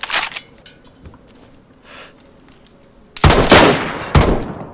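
Gunfire in the video game DayZ: a sharp shot at the start, a faint distant pop, then a loud cluster of rapid close-range shots near the end.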